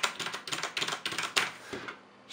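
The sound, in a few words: typing on a Logitech G710+ mechanical keyboard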